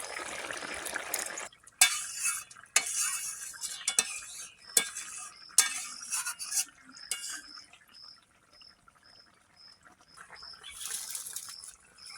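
Small mourola fish go into hot oil in a home kitchen pan, giving broadband sizzling broken by stirring scrapes and clinks, plus a faint repeating beep near the end.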